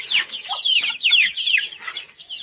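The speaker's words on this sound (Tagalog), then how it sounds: "we have here yung Rhode Island Red natin. Rhode Island Red." Young Rhode Island Red chickens, about a month old, cluck and chirp on a farm in a steady overlapping chatter of short, close calls with no talking.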